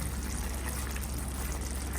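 Water pours into a pan of Andhra-style paneer masala, a soft steady trickling wash lasting a couple of seconds, close and fairly quiet with no talk.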